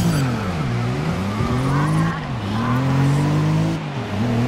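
Racing cars in GRID 2019 rumble and rev at the start of a night race, with engine tones rising and falling continuously, loud and close, with some talk over the engines.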